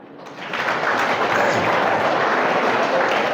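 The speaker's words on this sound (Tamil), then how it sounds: "இப்போ நீங்கள் கைத்தட்டணும்" A school audience claps at an education development day celebration at Mannar Higher Secondary School in Sivaganga, with the dense, steady applause swelling after a brief start and holding loud and continuous.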